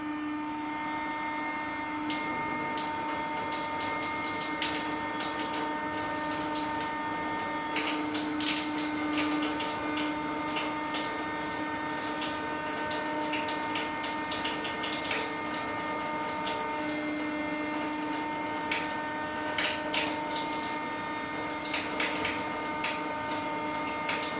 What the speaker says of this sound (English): So now we run the water through the filter for 5 minutes.